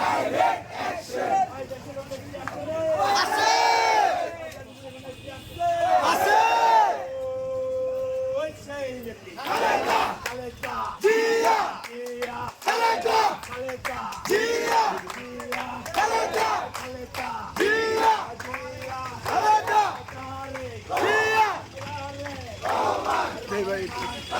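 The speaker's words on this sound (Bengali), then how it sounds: "শাখাওয়াতের পদত্যাগের দাবিতে মিছিল বিশাল এক মিছিল" A large protest march in Dhaka demanding an adviser's resignation, the crowd loudly chanting slogans in a call-and-response rhythm, with a leader's voice calling out and the group answering repeatedly.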